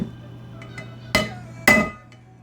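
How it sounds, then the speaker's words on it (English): Chisel struck with a hammer against the inner race of a Jeep Wrangler Dana 44 axle bearing: three sharp metallic blows, close and loud, spaced irregularly over a steady low background hum. "So as you can see now, we're hitting the inner part of the bearing with a chisel."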